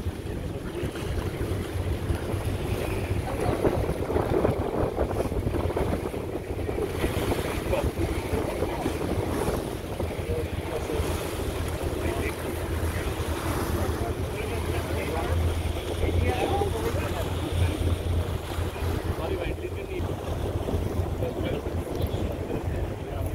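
A sailboat moves swiftly through open water at around 10 to 11 knots, with a steady wash of water and wind noise on the microphone; a person talks intermittently over it.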